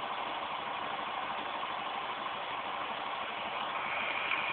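A Newman motor replica running on a 12V 5W solar panel gives a steady, even whirring buzz, close and moderately quiet, with no break over the whole stretch.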